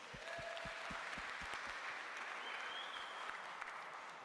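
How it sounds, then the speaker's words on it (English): An audience at the South African Library Week 2026 launch event applauds, a dense, even wash of clapping, fairly distant, held steadily throughout. "Let's give them a round of applause."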